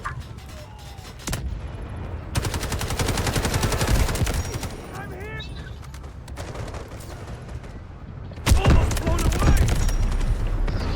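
Bursts of rapid automatic gunfire and heavy booming explosions from the shooter game Delta Force, loud and close in several volleys, with a player shouting excitedly between the shots.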